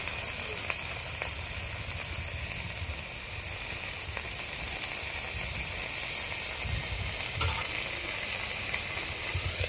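Mourala fish paturi wrapped in gourd leaves frying in oil in a covered pan, giving a steady, soft broadband sizzle and hiss that continues without a break, with a few faint pops.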